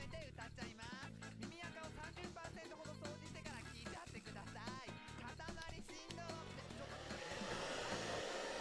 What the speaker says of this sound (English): Where's my hair dryer?